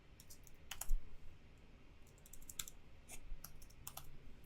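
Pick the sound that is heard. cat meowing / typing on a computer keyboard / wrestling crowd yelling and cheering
typing on a computer keyboard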